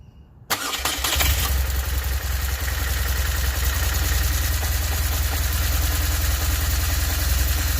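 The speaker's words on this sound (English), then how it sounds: "Let's start the motorcycle." A motorcycle engine cranks and catches after a brief quiet moment, then settles into a steady, loud idle that runs on without a break.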